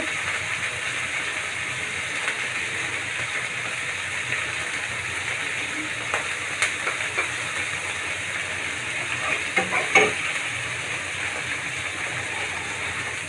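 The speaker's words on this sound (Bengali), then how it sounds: "এখন আমি রসুন কুচি দিয়ে দিব রসুন বাটা দিয়ে দিচ্ছি" Onion and garlic paste frying in a pan for a meat curry gives a steady, even sizzle throughout. A few faint utensil taps come near the end.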